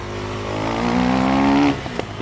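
A motorcycle engine holds a steady, loud rising drone during a wheelie, climbing slightly in pitch before cutting off abruptly, with a short mechanical clack afterward, close and without talk.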